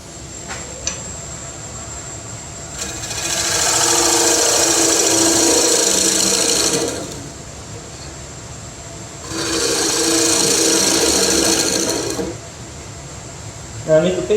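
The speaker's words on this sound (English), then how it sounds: "Now I make the face cut, I have my bevel riding flat along the face here." A wood lathe spins a workpiece while a gouge makes a face cut with its bevel riding flat, two sustained scraping, rasping passes of several seconds each, separated by quieter motor running, close and loud.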